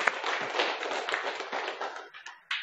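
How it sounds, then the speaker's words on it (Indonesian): Classroom applause for students Resa and Indah, a short burst of many hands clapping close by, dense and steady before tapering off near the end. "tepuk tangan untuk Resa dan Indah"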